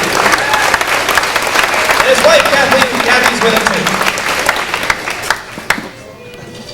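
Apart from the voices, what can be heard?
audience applause for Peter Dick at fiddle contest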